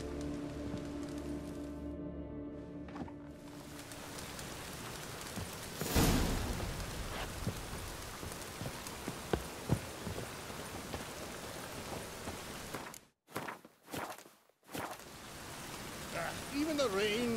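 Steady rain falls across a town in The Witcher 3, a continuous hiss under game music and ambience, with a sharp loud burst partway through and brief dropouts near the end.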